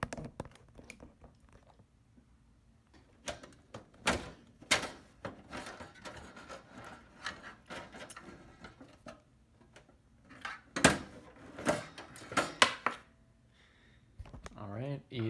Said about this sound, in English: Now let's take out the power supply.